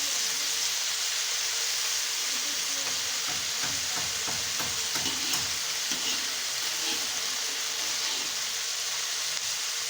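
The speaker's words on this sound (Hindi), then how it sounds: "1 मिनट के लिए इसे फ्राई करना है।" Okra (bhindi) sizzling steadily in a hot pan, a dense continuous crackle with soft stirring scrapes partway through, close and alone without talk.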